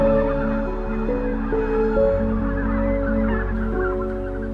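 A large skein of wintering pink-footed-type geese in a UK field, a dense continuous chorus of overlapping honks, loud and near, layered with many more distant calls and no voices.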